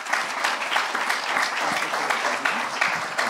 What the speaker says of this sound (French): le président de Fédérec, François Escoffier, sous vos applaudissements.